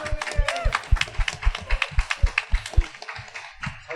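A church youth summer retreat audience claps for a visiting pastor from Seoul, giving rhythmic, fairly even claps in close succession indoors. The clapping fades toward the end, with voices mixed in.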